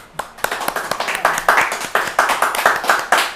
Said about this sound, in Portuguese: vamos terminar o programa batendo palmas